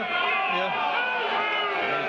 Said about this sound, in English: Two, shout the crowd.